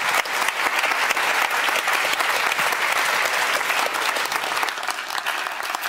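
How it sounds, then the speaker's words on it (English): A loud, full round of applause from the audience for a discussion panel in Amsterdam, thick steady clapping that thins slightly toward the end. "so give them a round of applause"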